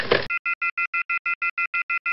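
A phone line after the caller hangs up on a call: a brief burst of noise, then a steady run of short, evenly spaced beeping tones, about eleven pulses, clear and alone.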